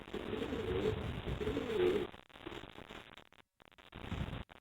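Racing pigeons cooing at close range in a loft, soft repeated throaty coos in the first two seconds followed by quieter rustling and a brief silent gap.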